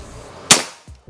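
A single sharp shot from a Ghost Warrior 360cc PCP air rifle cracks once, close and loud, then fades quickly into quiet with a faint mechanical click after.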